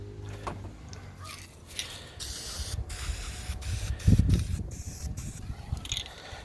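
Spray gun coating small metal parts for a homemade RZR cooling device, with bursts of hissing spray amid shop clatter and scraping, loudest around the middle of the clip.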